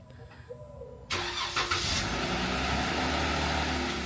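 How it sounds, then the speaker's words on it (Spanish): A car engine cranks and fires up from cold, a sudden loud start followed by a steady rumbling idle through an aftermarket exhaust, heard close with no talking. "déjenme lo arranco para que puedan escuchar el increíble sonido del escape"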